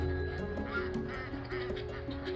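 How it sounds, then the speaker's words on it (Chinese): A flock of Shaoxing sheldrake ducks quacks in overlapping, nasal bursts, close and busy, and the calls run on through the whole stretch without any talking. "这就是绍兴的麻鸭"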